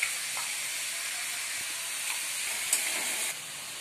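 Masala paste hits a hot pan while fish head and cabbage cook, giving a steady broad hiss and sizzle with no break, a couple of soft clicks partway through, and a slight drop in intensity near the end.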